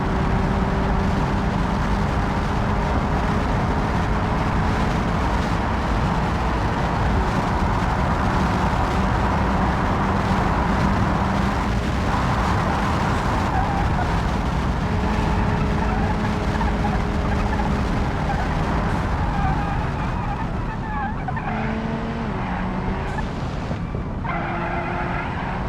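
A racing car from the Automation car-building game, fitted with an overdrive gearbox, drives hard with a loud, steady engine drone, sustained tire squeal and skidding through corners, holding close and constant throughout.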